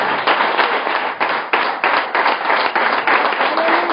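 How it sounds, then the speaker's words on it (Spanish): A church congregation claps together in sustained applause, many hands beating in a loose, energetic rhythm with no voices standing out. "levante un aplauso al Señor. Levante el mejor aplauso."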